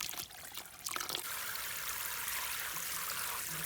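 Water pours onto a cocopeat block, a steady soft trickling stream that runs continuously after a few brief knocks at the start, moderately faint and close, with no talking.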